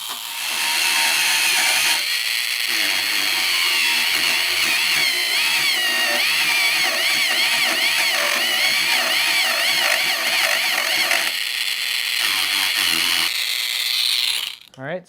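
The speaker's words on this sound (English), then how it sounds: "Now we're going to grab our Dremel and we're going to turn it to a medium speed" A Dremel rotary tool runs at medium speed, grinding down the sides of a part with a loud, close, high whine that wavers as it bites, continuing almost without a break and stopping briefly partway through.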